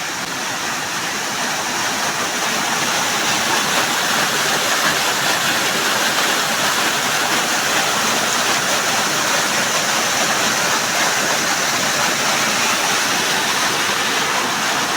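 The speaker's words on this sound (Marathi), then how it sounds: "हा बघा अजून एक धबधबा." A waterfall swollen by heavy monsoon rain roars in a loud, unbroken rush of white water throughout, close and constant, with no voices.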